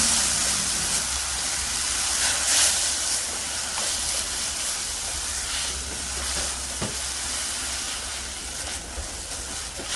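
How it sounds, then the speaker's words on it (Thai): Egg tofu and cha-om being stir-fried in a hot pan, a steady broadband sizzle and hiss running throughout with faint scraping touches, close and continuous with no talk. "เสร็จแล้วก็ทำการผัดต่อค่ะ ผัดคลุกเคล้าให้ส่วนผสมทุกอย่างเข้ากัน"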